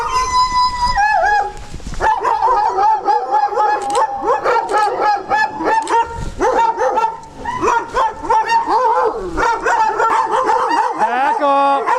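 Several dogs at a rural property bark, yip and howl loudly and close by in overlapping bursts, with a person speaking amid the racket.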